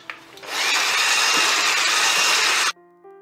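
An electric mixer whirs loudly and steadily, blending sugar, egg yolks and butter for gluten-free apple muffins, starting after a few faint clicks and stopping abruptly, followed by a softer residual tone.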